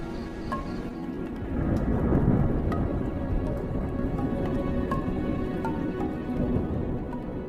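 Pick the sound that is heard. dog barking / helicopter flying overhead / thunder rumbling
thunder rumbling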